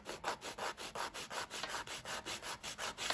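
A nail file scrapes back and forth across gel nail tips in a quick, steady rhythm, about five strokes a second, close up and dry-sounding with no voice over it.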